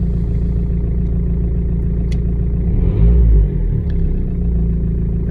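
A 2013 Renault Megane MK3 with the 1.5 dCi K9K diesel engine, suffering loss of power, rumbles at a steady idle, then briefly revs up with a deep swell before settling back, heard close and loud.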